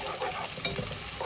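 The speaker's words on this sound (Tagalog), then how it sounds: "Sibuyas, unahin na natin. Kakaramelize natin yan." Sliced onions sizzling in hot oil in a pan as they cook down to caramelize for mushroom chicken, with a steady bright fry and a spoon scraping and stirring close by.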